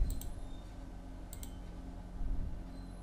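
Two faint pairs of quick computer mouse clicks, spaced apart over a steady low background hum.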